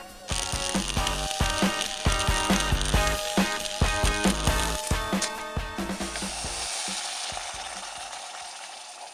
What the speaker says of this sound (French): j'utilise un gros tube en fonte sur lequel je soude une plaque d'acier